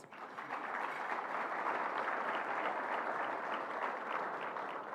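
A large awards-dinner audience at a community colleges celebration breaks into a round of applause, swelling quickly into a steady, even roar of many hands heard from a moderate distance.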